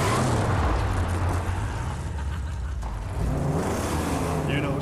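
Car engine in the Mad Max video game, a continuous low rumbling drive with a rise in revs near the end, heard under game dialogue.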